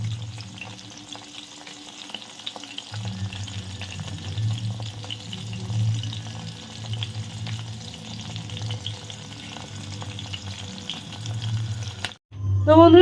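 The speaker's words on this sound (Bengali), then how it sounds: "আরেকটা ব্যাচ এখনো ভাজা চলছে।" Chicken pakoras deep frying in hot oil, a steady close crackling sizzle that runs throughout, with a low hum underneath and a brief clatter near the end.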